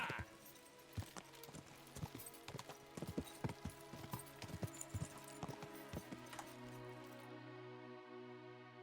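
Horse hooves clip-clopping in the medieval role-playing game Kingdom Come: Deliverance 2, a steady rhythmic trot of close, distinct hoofbeats over a low game soundscape, ending in a settled hum.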